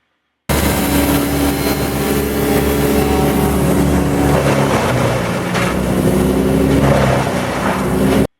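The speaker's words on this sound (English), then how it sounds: "there's this like massive truck noise out behind my house" A massive truck rumbles outside behind a house, giving a loud, continuous engine drone with shifting low tones and some revving, starting abruptly and running steadily.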